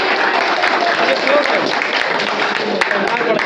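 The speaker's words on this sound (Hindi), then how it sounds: "बच्चों सब जोरदार तालियां बजाते हैं" Children and guests at a New Year poetry gathering in Kanpur clap loudly and steadily, a continuous crowd of applause with a voice speaking over it throughout.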